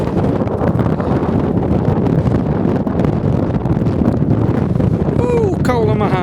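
Strong wind buffeting the microphone on the icy summit of Great Shunner Fell along the Pennine Way, a loud continuous roar throughout, with a voice briefly heard near the end.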